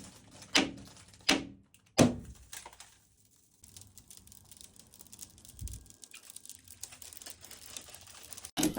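A glass hammer taps a tour bus window three times in sharp, crisp knocks early on, followed by quieter crackling and rustling of glass and debris.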